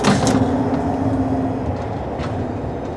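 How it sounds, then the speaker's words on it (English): A Korean high-speed bullet train rumbles along at about 150 miles per hour between Seoul and Busan, a loud continuous roar with a faint whining tone, heard from inside a first-class carriage. "That's pretty good for a train going at 150 miles per hour."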